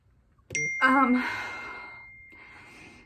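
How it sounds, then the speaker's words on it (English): A phone rings indoors with a single bright electronic tone that starts sharply and then decays, heard alone without talk. "my other phone's going off"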